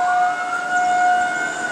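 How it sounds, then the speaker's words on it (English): Storm warning sirens wail during an October 2010 storm, two steady sustained tones holding throughout without voices. "Oh, there's the sirens."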